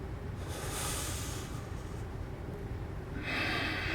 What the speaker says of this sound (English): I'm inhaling to get taller, and I'm exhaling to squeeze back a little bit more.